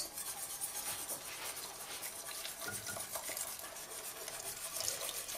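Steady stirring of flour and water in a saucepan to make paste, a continuous soft scraping and swishing close by with faint liquid sloshing, no voices.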